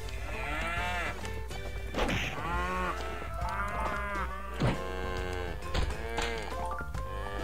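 Cows moo repeatedly in Minecraft, a modded game version, with several drawn-out tonal lows in close succession over steady background noise, broken by a few sharp hit sounds.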